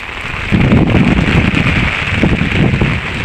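Heavy rain falls outdoors in a steady, loud, dense patter, mixed with some wind rumble. It swells from about half a second and keeps going without a break. Nobody speaks.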